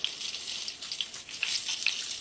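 Salmon skin sizzles in a hot pan for a crispy-skin fish dish, a steady hissing crackle with small pops scattered throughout, close and moderately loud with no voices.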